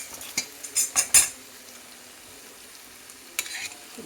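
Tomatoes tossed into a frying pan and stirred with a metal spoon, a few sharp scraping clinks over a soft background sizzle, then a quieter pause and one more stir.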